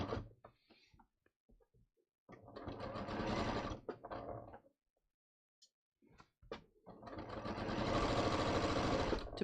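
A sewing machine stitches around a tapered trouser leg to put back a drawstring hem, running in two sustained bursts separated by short clicks and pauses, close and fairly quiet.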